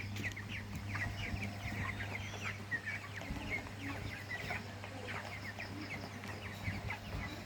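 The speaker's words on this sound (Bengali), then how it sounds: "এখনও মুরগির অবস্থা ভালো, এই যে দৌড়াদৌড়ি করে দেখেন, সুস্থ সবল।" Broiler chickens about 24 days old and near 1.5 kg, running about on a farm, cluck in a steady overlapping chorus over a constant low mechanical hum, with no voices.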